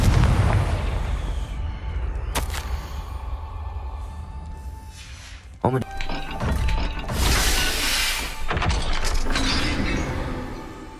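The Confringo explosion spell in the Hogwarts Legacy video game lands as sharp blasts and booms with debris and mechanical clatter, loud and layered over rumbling game ambience.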